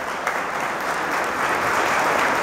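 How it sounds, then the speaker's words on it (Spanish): An audience at an art workshop closing ceremony claps steadily and loudly throughout, the applause swelling slightly toward the end. "Así que te damos un aplauso sincero."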